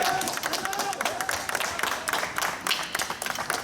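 An audience at a World Cancer Day gathering applauding, dense continuous clapping with a few cheers, close and fairly loud, with some voices underneath.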